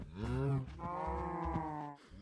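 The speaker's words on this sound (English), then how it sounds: "And now we got 3 of these spruce cows, or whatever they're called." Several cows low in Minecraft, a long drawn-out moo with a rich tonal drone, quiet but clear and heard alone without talk.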